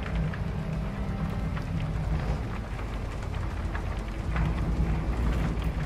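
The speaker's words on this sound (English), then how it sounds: "I don't like this storm." Steady rain and rumbling storm noise in the video game Shadow of the Tomb Raider, a dense continuous wash with low booming undertones and scattered crackles throughout, no voices.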